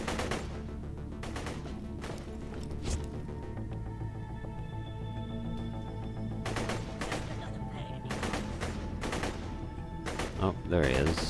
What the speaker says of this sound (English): Where is he shooting me from now?